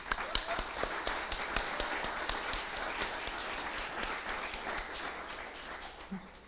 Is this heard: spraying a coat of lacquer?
no